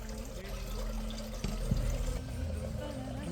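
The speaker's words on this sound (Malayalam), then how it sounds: "ഇതിൻ്റെ പുറത്തേക്ക് ഞാൻ നല്ല 2-3 ടേബിൾ സ്പൂൺ നെയ്യ് ഒഴിക്കും." Ghee is poured over ada pradhaman, a Kerala sweet pudding, giving a soft, close liquid pour with a small splash midway, partly under a speaking voice.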